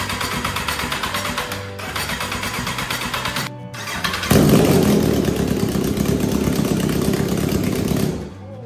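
A rusty, neglected Kawasaki Z1000 motorcycle cranks over for a few seconds, then fires up and settles into a loud, steady running rumble close by before cutting off near the end.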